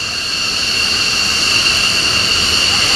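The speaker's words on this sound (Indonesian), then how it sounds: "Penerbang TNI Angkatan Udara hari ini menggelar geladi demo udara atau flypast di Lanut Halim" F-16 fighter jets flying a flypast rehearsal at Halim Perdana Kusuma air base in East Jakarta, heard as a loud, steady, broad jet roar with a high whine that holds for the whole stretch.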